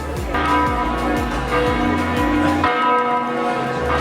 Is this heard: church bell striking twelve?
yes